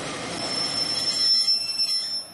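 Train running on rails in Hokkaido, arriving toward Sapporo: steady broadband rumble of wheels on track with a high, sustained squeal of wheels through the whole stretch, fairly close and loud, no voices.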